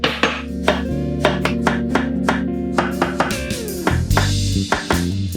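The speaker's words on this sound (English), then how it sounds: "Chop it in the small pieces." Sharp knife strikes on a cutting board as a ripe organic mango is chopped into small pieces, a steady series of close, crisp knocks with a few quicker bursts and no talk.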